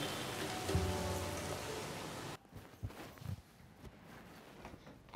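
Steady rain falling as a dense hiss that cuts off abruptly midway, leaving a quieter room with faint thumps and movement.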